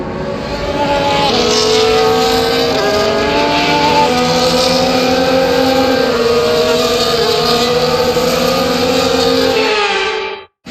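Formula 1 cars on a formation lap at the Singapore Grand Prix in F1 24, a loud, sustained engine drone with several overlapping rising pitch lines from multiple cars, steady for about ten seconds before cutting off abruptly.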